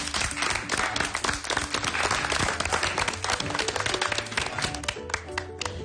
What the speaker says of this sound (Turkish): Alkışlarla Zeynep Dizdar'ı uğurluyorum.